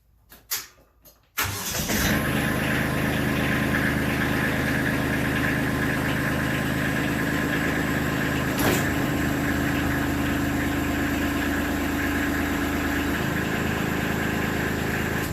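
After a few faint clicks, a Kubota LX2610 compact tractor's engine cranks and catches, then idles steadily and close while its three-point hitch is raised, with a brief clunk partway through.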